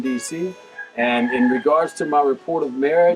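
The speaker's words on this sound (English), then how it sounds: "you hear the roosters in the background" Roosters crow in the background, with a few faint calls coming through behind a person who speaks continuously in the foreground.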